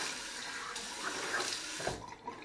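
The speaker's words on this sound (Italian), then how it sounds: "Adesso mi sciacquo il viso," Tap water running into a sink as a face is rinsed after shaving, a steady close splashing rush with brief shifts as hands move through the stream, tapering off near the end.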